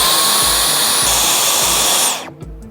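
A Dyson vacuum cleaner runs in an electronics store, giving a loud, steady high-pitched whirring roar that winds down and cuts off near the end, leaving quiet background.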